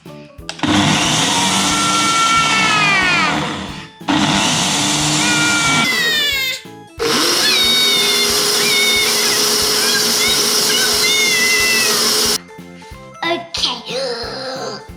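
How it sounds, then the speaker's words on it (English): A blender whirs loudly in several bursts while blending watermelon, pausing briefly between runs, its motor pitch sliding as it churns, with a rattling jingle near the end. "Now we're going to blend all the watermelon."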